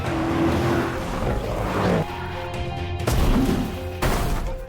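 Cars roar through a movie chase scene, engines revving and tires squealing in abrupt cuts from shot to shot, loud and close with dramatic whooshes between bursts, no speech.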